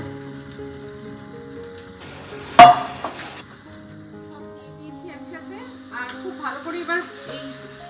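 Dal stir-fried with spices in a pan, with a single sharp metal clank from the utensil, then soft scraping and sizzling over a steady background hum.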